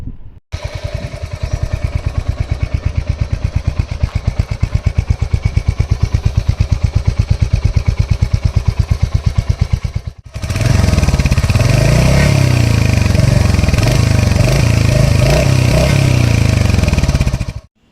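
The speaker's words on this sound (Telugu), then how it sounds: "సైలెన్సర్ సౌండ్ అయితే చాలా బాగుంటుంది" A Royal Enfield Hunter 350 motorcycle idles with a loud, even exhaust thump for about ten seconds, then revs up into a fuller, steady roar up close.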